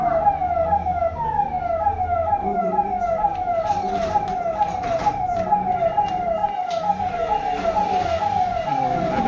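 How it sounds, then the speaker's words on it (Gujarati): An ambulance siren wails in a continuous rising-and-falling pattern, loud and steady throughout, over a faint road rumble. "મેડમ કહી દીધું છે, એમ્બ્યુલન્સ આવે છે"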